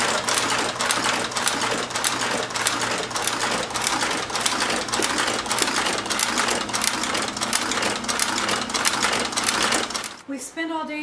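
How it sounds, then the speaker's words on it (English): An industrial sewing machine runs a fast, steady rattling stitch along the side seam of a kangaroo leather boot, loud and close for about ten seconds before stopping, with a brief clatter at the end. "So Taylor is stitching the side seam on my baby, the American Straight and Rip."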